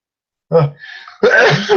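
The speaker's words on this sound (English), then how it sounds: "That was a big sneeze there." A single loud sneeze with a sharp inhaled buildup, followed by a brief voiced burst, close to the microphone.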